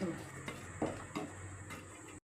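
Kuzhi paniyaram made with palm jaggery (karupatti) being lifted from the pan onto a plate, with light metal clinks and scrapes of utensils against cookware over a soft background hiss.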